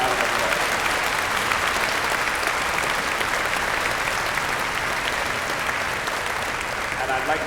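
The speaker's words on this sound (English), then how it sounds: "give them a nice round of applause" Dense, sustained applause fills a university convocation hall as graduates and guests honor the faculty and staff, a loud unbroken roar of many hands for several seconds.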